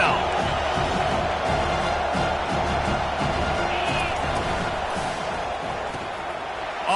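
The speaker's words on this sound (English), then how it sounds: "Here comes this home crowd as the defense tries to get off the field on 3rd down." A home crowd roaring in a college football video game as the defense tries to get off the field on third down. The dense stadium noise swells steadily under a commentator's voice.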